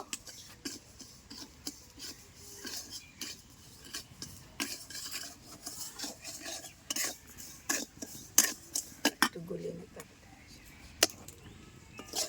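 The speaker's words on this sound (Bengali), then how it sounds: "এরকম শুকনো কড়াইতে নাড়তে থাকি" A spoon scrapes and clinks against a dry wok as sugar is stirred until it browns, with soft, irregular scraping strokes and occasional sharper metal taps, quiet and close.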